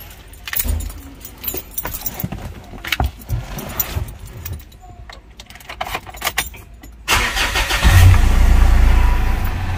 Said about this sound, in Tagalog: so start natin ang engine